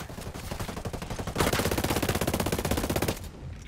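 Rapid, steady automatic fire from a G2 rifle in Ghost Recon Breakpoint PvP, an evenly spaced stream of shots that grows louder and denser midway, then cuts off abruptly.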